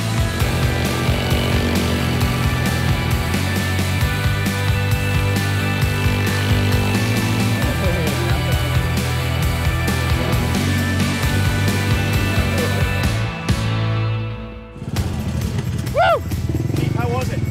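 A Yamaha SnoScoot snowmobile engine revs loud and close with a buzzy, steady drone that surges as it rides, briefly dropping away near the end before picking up again.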